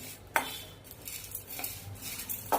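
A metal spoon scrapes and clinks in a pan while stirring chana dal as it dry-roasts for chakli flour, quiet repeated scrapes close by.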